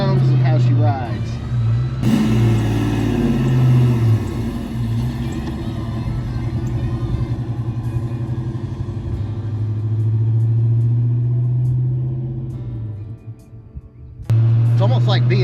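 A classic car driven on the road, its engine not running quite right, gives a steady low rumble throughout, with a shift in pitch and load around the middle and a brief drop near the end.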